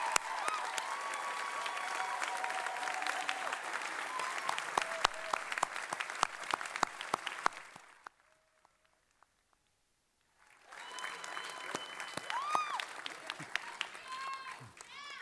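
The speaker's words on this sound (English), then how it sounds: "And one more round of applause for our 2023 Master of Global Affairs graduates." Applause and scattered cheering from a crowd at a 2023 graduation recognition ceremony, sharp individual claps over murmuring voices, dropping to near silence midway before clapping and chatter resume.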